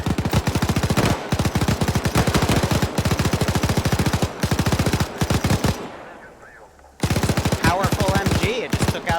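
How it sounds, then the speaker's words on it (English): Sustained automatic machine gun fire in Arma 3, a rapid loud rattle of dense bursts with a brief pause near the end before firing resumes. "Powerful MG, it just took out a little building."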